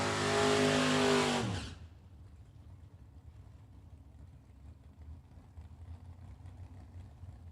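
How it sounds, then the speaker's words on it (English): A Ford Mustang race car launches hard in a Super Pro drag race, a loud, close engine roar for under two seconds that cuts off abruptly, leaving only a low distant rumble and ambient track noise. "Ford Mustang of Danny Angel in left-hand lane"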